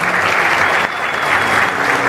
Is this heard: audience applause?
yes